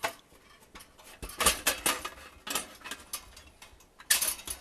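A 1950s Sunbeam T-20b toaster is flipped over and handled during disassembly, giving a series of close metallic clanks and rattles with short clinking bursts and quiet gaps, no voices.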